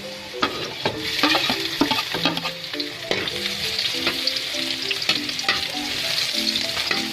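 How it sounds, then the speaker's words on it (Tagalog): Garlic and onion sautéed in a pan, a loud bubbling sizzle under frequent scraping and clinking from a spatula stirring against the metal, repeated irregularly throughout, with no speech. "igisa natin ang bawang, isunod ang sibuyas"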